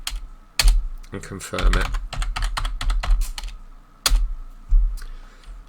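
A password is typed on a computer keyboard, a string of quick, close key clicks with a few louder keystrokes, and someone speaks briefly over the typing.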